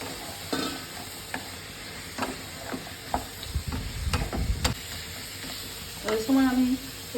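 Thinly sliced potatoes dropped into hot oil for a Bengali fish dish, crackling and sizzling as a spatula scrapes and stirs in irregular clattering strokes, with a brief thud of handling near the end.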